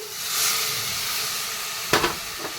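Water poured into a hot pan of frying spice paste with turmeric and Kashmiri chilli, a steady close hiss of steam and sizzle, with a brief clatter near the end.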